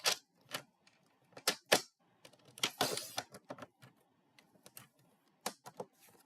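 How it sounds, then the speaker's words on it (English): A cutter trims the edge of watercolor paper, giving quiet, irregular sharp clicks and taps with one longer scraping swipe partway through. "I just want to trim off a little bit of this edge right here"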